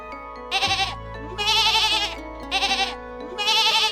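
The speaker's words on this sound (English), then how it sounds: "G for Goat." A goat bleats loudly four times, each a wavering, nasal cry with short gaps between, close and prominent.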